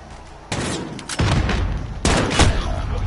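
Desert Eagle pistol fire in Call of Duty Modern Warfare Warzone: three heavy, close, booming shots in quick succession, each with a rough, sustained tail, over a noisy game background.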